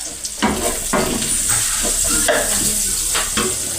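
Onion, garlic and tomato sauté in a hot pan, a steady sizzle broken by several scraping stirs of the spatula against the metal, close and continuous with no talking.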